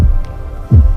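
A heartbeat sound effect: two deep, muffled, close thumps about three quarters of a second apart, over a faint low hum.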